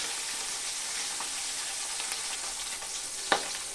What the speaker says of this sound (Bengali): তো মাছটাকে কিন্তু একটু লাল লাল করেই ভেজে নিতে হবে।